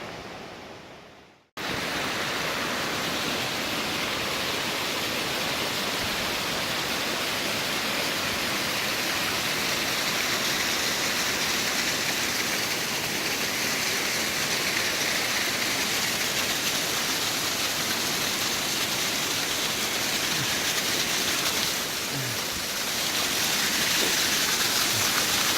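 Rushing river water pours steadily through the town of Damascus along the Appalachian Trail, a loud, continuous broadband roar that begins after a brief quiet moment and holds unbroken throughout.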